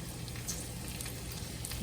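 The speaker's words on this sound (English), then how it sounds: "It's sizzling as soon as I put it in there." Continuous soft sizzling and crackling of yams frying in hot oil, steady and close, with no voices.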